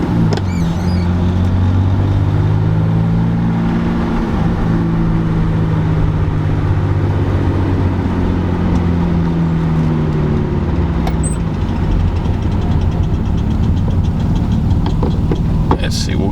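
A BMW E30 fitted with an eBay turbo idles steadily close by, its engine note droning low and even with small wavering in pitch, while a voice is heard faintly over it.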